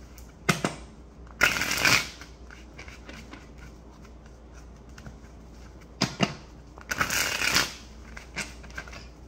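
An infinity oracle card deck being shuffled in two quick riffling bursts, with softer card handling and a faint room hum between them.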